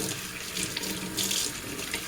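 Cool tap water runs steadily into a sink to rinse dye out of a doll's hair, a close, even hiss and splash with no talking.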